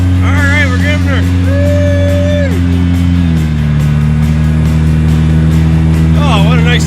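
A car with no fenders or bumpers drives along steadily, its engine drone holding a constant low pitch that drops slightly partway through, while people talk over it near the start and end.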